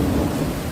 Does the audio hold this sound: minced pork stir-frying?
no